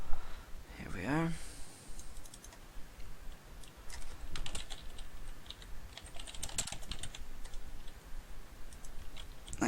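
Someone types on a computer keyboard in a quick, irregular run of light clicks and taps, close by, with a brief voice-like sound near the start and soft background noise throughout.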